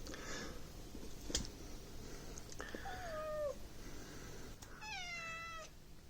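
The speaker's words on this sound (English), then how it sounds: "here's the cat." A pet cat in a golf club maker's workshop lets out two drawn-out meows a couple of seconds apart, the second longer and more tonal, faint over low room hum with a sharp knock between them.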